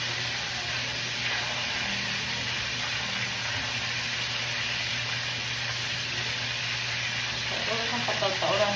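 Chicken for adobo frying in a pan, a steady loud sizzle that holds without a break, with faint stirring and clatter near the end.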